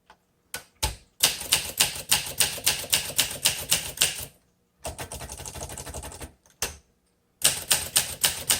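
Rapid keystrokes on a 1962 Olympia SM5 manual typewriter, close and loud, coming in three bursts with short pauses between them, each burst a quick, steady run of sharp clacks.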